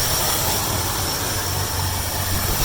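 A 1972 Mercury Comet engine with a Carter carburetor idles at a lowered idle speed, giving a loud, steady, even rumble with no pauses.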